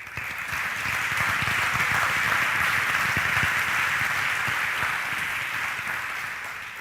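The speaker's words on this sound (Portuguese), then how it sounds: "Glorifica a Deus com aplauso nesse lugar." A church congregation claps during a worship service, a broad wash of many hands swelling in quickly, holding steady and loud, then easing slightly at the end.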